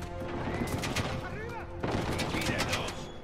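Gunfire in the video game Uncharted 4, a run of sharp bursts repeating across the clip over game music and effects, with a voice talking alongside.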